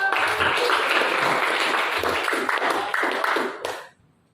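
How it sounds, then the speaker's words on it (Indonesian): A classroom of pupils clapping their hands together in a dense, continuous burst that keeps a steady level for several seconds and then stops abruptly, with a few voices mixed in. "Nah, tepuk tangan dong."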